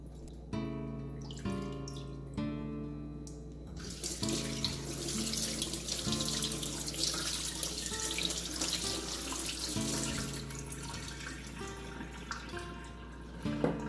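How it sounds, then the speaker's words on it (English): Cold tap water runs onto fish in a metal strainer over a sink, a steady splashing stream that starts after a few clinks and handling noises and continues close by, with no talking. "rinse thoroughly in cold water"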